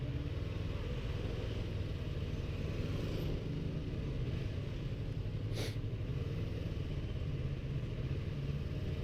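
A continuous low motorcycle engine rumble with steady wind and road noise, unbroken throughout, with no talking.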